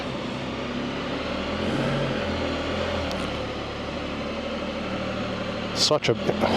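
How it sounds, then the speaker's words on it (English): A 2024 Can-Am Spyder RT Limited idles close by, its low engine hum rising gently as throttle eases it backward. A few clicks and knocks come near the end. "release the park foot brake and then just give it throttle very gently to ease it back"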